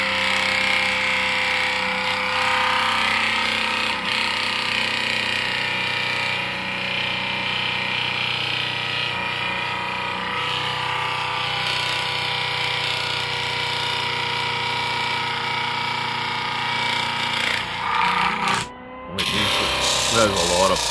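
An upgraded 8-coil pulse motor shreds material under load, giving a loud, continuous droning buzz with rattling, jackhammer-like texture that stays steady for about twenty seconds before a brief dropout near the end.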